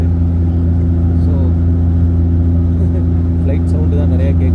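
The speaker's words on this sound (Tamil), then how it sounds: "ஃப்ளைட் சவுண்டு தான் நிறையா கேட்குது. ஓகே, இன்ஜின் பக்கத்துலேயே இருக்கிறோம்." Steady loud engine drone inside an airliner cabin in flight on the way to Kochi, seated near the engine, a constant low rumble and hum running unbroken throughout.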